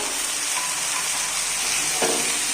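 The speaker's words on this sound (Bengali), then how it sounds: "দিলাম এবারে নেড়ে নিচ্ছি টমেটো সস আর চিলি সস দিলাম" Tomato sauce and chili sauce are stirred in a hot frying pan, giving a steady loud sizzle and hiss throughout with one soft scrape of stirring near the end.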